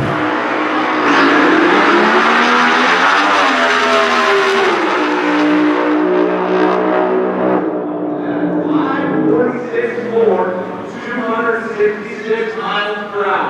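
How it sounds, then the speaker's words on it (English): A Top Alcohol Funny Car makes a drag racing run at the Nevada Nationals, Las Vegas Motor Speedway, its loud engine roaring and revving steadily before the pitch shifts and fades, with a commentator talking over it. "In Top Alcohol Funny Car, Annie Whiteley took her bye run for being number one qualifier."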